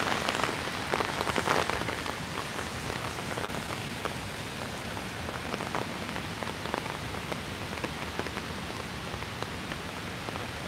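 Heavy rain drums steadily on an umbrella held close overhead during a storm near the White House in Washington DC, a dense, continuous patter with no voices.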